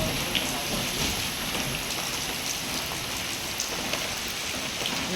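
Heavy, steady rain pours down continuously at Chittoor, Palakkad, a dense broadband hiss with scattered drops striking surfaces nearby; no voices.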